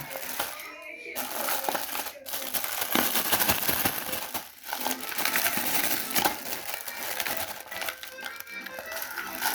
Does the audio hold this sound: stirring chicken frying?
no